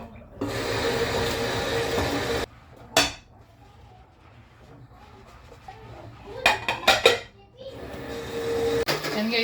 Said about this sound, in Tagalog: Ito, hugas muna tayo ng plato dito.